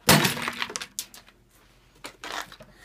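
A pane of glass is struck by a dropped 3-pound weight and bursts with a sharp, loud crash, followed by scattered tinkling and clinking of falling shards that trail off, then a second smaller cluster of clinks.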